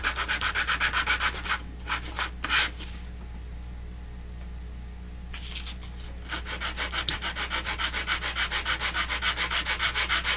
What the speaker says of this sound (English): I am sanding all edges equal and flat.